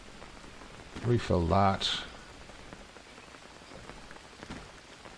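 Steady rain pattering in the jungle survival game Green Hell, a continuous hiss throughout, while someone briefly speaks over it.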